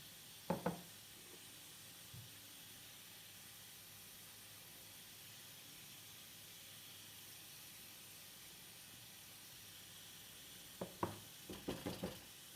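Steam hisses steadily from a closed pot of beans cooking on the stove, a constant faint hiss lasting throughout, broken by a few brief knocks and clatters near the start and end.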